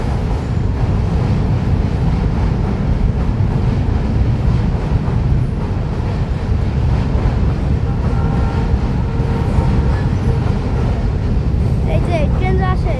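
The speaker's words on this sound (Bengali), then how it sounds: "এখানে ট্রেন যায়" A train rumbles steadily across the Hardinge Bridge at Pakshi, a loud continuous low roar filling the whole stretch while someone talks over it.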